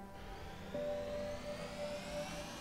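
A player-built vehicle engine in the game Scrap Mechanic gives a steady, moderately loud droning hum that steps up in intensity just under a second in, adding a sustained whine that holds to the end, with no talking.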